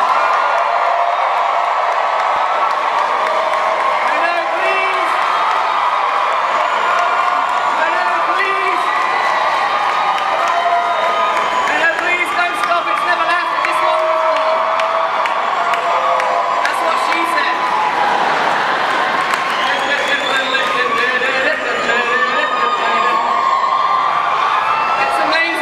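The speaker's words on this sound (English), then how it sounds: "Clap to your screen, go wild now!" A comedy-show audience roars with cheering, whoops and clapping, a loud, dense crowd noise that holds steady for the whole stretch without letting up.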